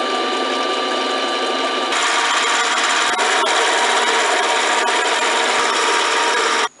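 A tungsten carbide cutter turns a hole's outside diameter down to press-fit size for brass, on a lathe with oil burning off. Steady, loud, close machining whir with a dense scraping texture runs continuously, then stops abruptly at the end.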